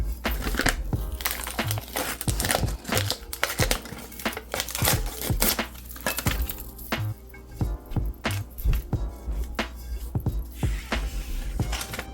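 Packaging around a custom tumbler being unwrapped by hand, with dense, loud, close crinkling, crackling and tearing that runs continuously in irregular bursts.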